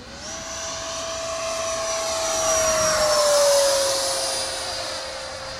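A Freewing Avanti S electric RC jet with an afterburner passes overhead. Its steady ducted-fan whine swells and then fades, with a falling pitch as it goes by, loud and alone with no talk.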